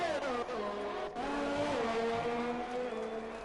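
A McLaren car in F1 2020 spins into the wall at the Canadian GP, heard as a steady, close engine drone with falling and shifting pitch and some tyre squeal.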